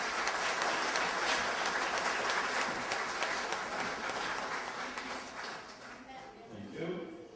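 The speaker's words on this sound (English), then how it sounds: "we should give a round of applause to these officers past and present" An audience at a cadet corps event applauds officers past and present, a fairly distant, steady wash of clapping that gradually thins toward the end.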